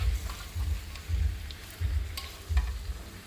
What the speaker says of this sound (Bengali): ওই বারবার একটু নাড়িয়ে চাড়িয়ে দিতে হবে, না হলে মাংস কিন্তু তলায় ধরে যাওয়ার সম্ভাবনা থাকে কষানোর সময়